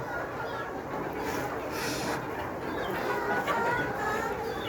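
Sixteen-week-old layer pullets cluck and murmur continuously nearby against a busy barn background, with occasional voices mixed in.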